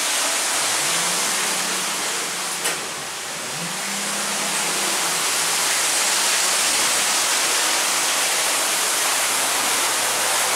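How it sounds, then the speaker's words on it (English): A 2008 ThyssenKrupp Aurora hydraulic glass elevator at a Bass Pro Shops, heard as a loud, constant broadband hiss with a low motor hum that rises and shifts pitch during the early seconds before settling into steady running. "there goes the elevator"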